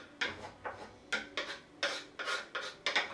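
A spoon stirring tomato juice into chicken curry with coconut milk in a pot, with about eight quiet, rhythmic scraping strokes.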